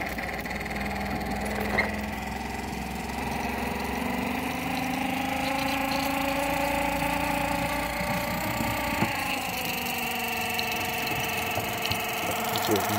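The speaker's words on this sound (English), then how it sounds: "blowing through there pretty good. 20 psi." Compressed air blows through a transmission cooler at 20 psi during a pressure test, a steady loud hiss and rush with a droning, engine-like hum and shifting tones over it.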